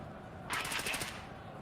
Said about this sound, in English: Early shots off from the AS Vals.